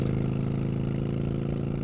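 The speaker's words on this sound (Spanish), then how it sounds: "Ah, no, ella trae una motocicleta." Motorcycle engine idling in the video game Resident Evil 2, a steady, even mid-pitched putter holding at a constant level with no revving.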